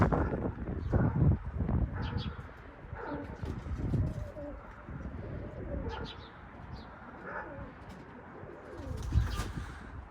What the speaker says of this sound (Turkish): Üç tane kuşum havada. Evet onlar burada.